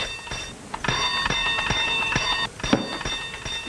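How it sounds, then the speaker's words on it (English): A bright bell rings repeatedly in quick bursts, its sustained high tones overlapping, with a few sharp knocks and a short pause near the end. "Oh, stop ringing that bell"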